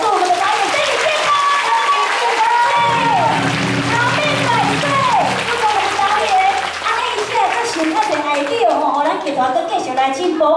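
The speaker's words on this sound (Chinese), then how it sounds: "来一个热烈掌声来祝我们的导演生日快乐" Audience at a Taiwanese opera troupe's curtain call claps for the director's birthday, a steady wash of applause across the whole stretch, with crowd noise and a voice over a loudspeaker running on top.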